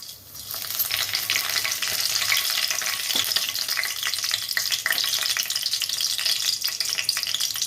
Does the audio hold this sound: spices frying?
yes